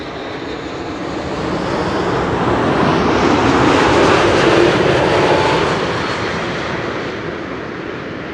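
A KLM Boeing 787-10 airliner, arriving from New York JFK, lands at Amsterdam Schiphol with a loud broadband jet roar that swells toward the middle and slowly fades, heard alone at a moderate distance.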